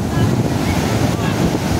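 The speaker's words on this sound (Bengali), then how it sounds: "সামনের দিকে বাঘের মতো গর্জন করে পুরো সেই সমুদ্রের বিচেতে আছড়ে পড়ছে।" Big ocean waves crash and roar continuously onto the sand at Juhu Beach in Mumbai, a loud, dense wash of surf with wind buffeting the microphone throughout.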